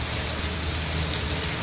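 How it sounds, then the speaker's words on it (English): Heavy rain pours down steadily outdoors in Northern California on a warm day, making a dense, even wash of sound with no breaks. "It just started pouring."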